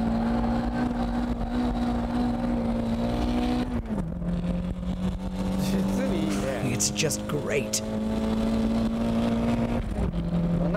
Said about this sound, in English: Literally flooring it the entire way.